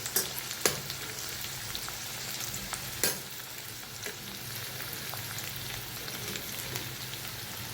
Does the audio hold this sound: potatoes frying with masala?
yes